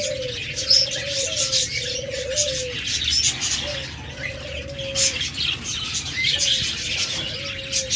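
A breeding pair of caged pet birds at a bird seller's calls with repeated soft, low cooing phrases and scattered thin chirps, steady over a hissy, busy background.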